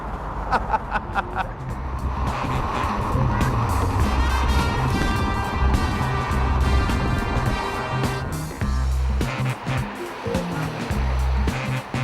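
A loud sports car engine roars and revs through its gears up to a 6,000-7,000 rpm limiter, with a brief dip near the end before it pulls hard again, plus rushing wind noise.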